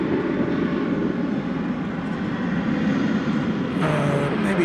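An American Airlines jet, flight 2340, approaches DFW Airport from a distance after an earlier go-around, its engines a steady broadband roar that holds throughout with a slight hiss rising near the end.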